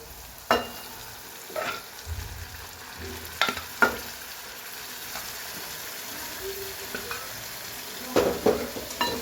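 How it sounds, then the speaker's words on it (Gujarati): Mung beans dropped into spiced oil sizzle steadily in a pan, with several sharp stirring clatters and scrapes of the spoon against the pan throughout. "હવે આપણે મગ એડ કરી લઈએ."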